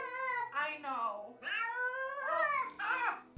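A house cat meows close up, giving several drawn-out, wavering meows in quick succession with short gaps between them.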